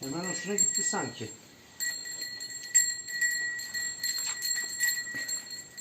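A small bell on a freshly shampooed dog's collar jingles in quick bright tinkles through most of the stretch, close by, while someone talks and laughs over it.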